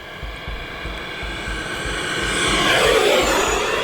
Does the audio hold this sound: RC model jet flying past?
yes